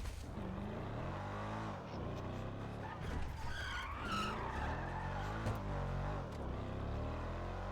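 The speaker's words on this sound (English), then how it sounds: "This thing needs a little bit louder engine, wouldn't kill it, would it?" A police car in a video game roars along with its engine running and tyres skidding and squealing, loud and continuous, with a voice talking over it in places.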